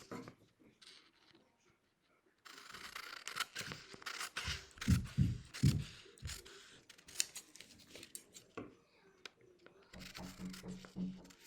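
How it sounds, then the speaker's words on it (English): Scissors snipping around a paper sewing pattern, close crisp cuts and rustling paper coming in repeated bursts after a quiet start. "I'm going to go ahead and cut around my pattern."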